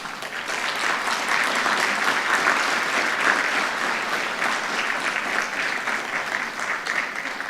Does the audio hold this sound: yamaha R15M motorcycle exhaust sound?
no